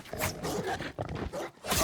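A dog in the video game Ghost of Tsushima growls and snarls in several rough, rumbling bursts, loud and close, with short pauses between them.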